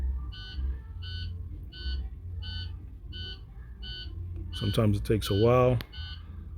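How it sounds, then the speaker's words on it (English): A key-on International heavy-duty truck with no ECM communication gives off a steady series of short, evenly spaced electronic beeps in the background, and someone speaks briefly near the end. "Sorry for the constant beeping like that in the background"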